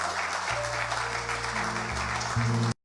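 Audience applause at the official launch of a credit scoring service in Ghana, a broad wash of clapping carrying on for a few seconds under sustained low musical tones before cutting off abruptly.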